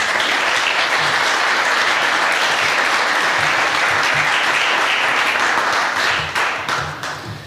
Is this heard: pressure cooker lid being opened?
no